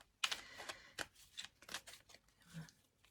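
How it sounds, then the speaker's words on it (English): Chunky, stiff tarot cards are shuffled by hand in quick riffling bursts with soft slaps between them, close and fairly quiet, with no talk. "These cards like this are a bit harder to shuffle"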